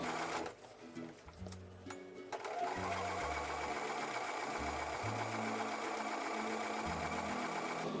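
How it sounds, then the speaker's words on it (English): A sewing machine stitches a quilt block in short start-stop bursts that turn into a steady run, its motor whirring with a rapid rhythmic needle chatter, close and clear. "I'm going to sew just to the left of that point"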